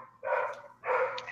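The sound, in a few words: border collie dog barking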